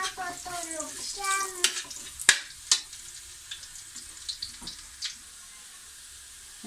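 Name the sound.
garlic frying in a pan until brown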